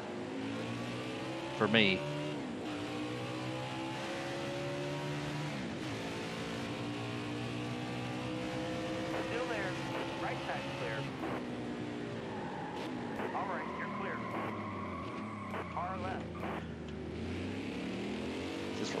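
A Cup car engine revving hard around the Indy road course, a loud continuous roar rising and falling through upshifts and downshifts, with tire squeal and someone talking over it.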